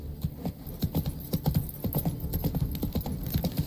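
Rhythmic hoofbeats of a horse galloping in The Witcher 3 on the isles of Skellige, a steady, fairly loud clip-clop that carries on throughout with no talking.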